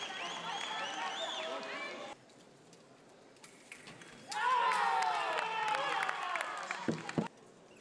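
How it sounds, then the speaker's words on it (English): Coaching staff and teammates cheering a fencer at a Summer Universiade bout in Gwangju, bursts of shouts and excited voices, with a quiet pause between two loud spells of cheering. "their coaching staff and teammates cheering her on"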